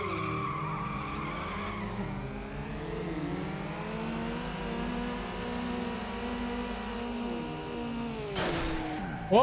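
A car engine revs hard and tires squeal during a drag race in Need for Speed Underground, a sustained rising and falling whine with shifting pitch, ending in a sharp noisy burst.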